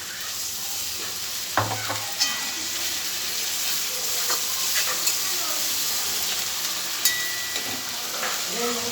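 Poppy seed paste frying quietly in a pan with a soft, continuous sizzle and hiss, broken by a few sharp clinks and scrapes of stirring.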